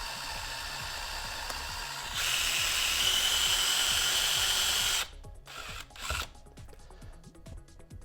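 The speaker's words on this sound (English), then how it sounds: "I'm essentially drilling down the middle of the original rod that was glued in there" A drill bores down the middle of an old glued-in rod inside a Boba Fett right vambrace prop. It whines steadily and loudly for about three seconds, then stops, leaving light handling clatter.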